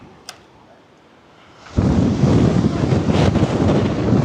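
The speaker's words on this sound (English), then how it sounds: "it's really windy." Quiet at first, then a sudden loud gust of wind hits the microphone and keeps buffeting with a heavy, rumbling roar.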